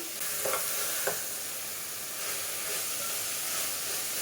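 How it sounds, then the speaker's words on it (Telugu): Masala with chopped tomato and green chilli frying for a village-style chicken curry, a steady bright sizzle and hiss throughout with a couple of faint stirring scrapes early on. "ఈ మసాలా, టమోటా, పచ్చిమిర్చి అన్నీ కాసేపు మగ్గిద్దాము"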